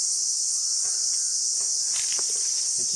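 An insect in the Himalaya near Makalu, not a true cicada but sounding like one, buzzes in a steady, continuous high-pitched drone throughout, with faint footsteps underneath and no talk.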